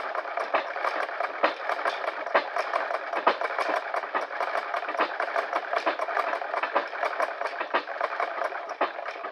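A Singer 237 sewing machine driven by a foot treadle stitches a seam joining sections of a woven blanket, producing a steady, rapid mechanical ticking and rattling at an even pace throughout, close by and with no talk.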